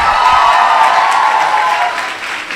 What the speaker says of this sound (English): Can we have a loud, loud applaud for them?